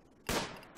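A single sharp gunshot from the colony-building video game RimWorld, a brief loud crack with a short decaying tail and no talk.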